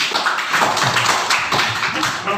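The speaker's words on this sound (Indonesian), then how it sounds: "Tepuk tangan dulu untuk kelompok 2" A classroom group applauds for the second student group, dense close clapping that holds steady throughout the short stretch, with no speech over it.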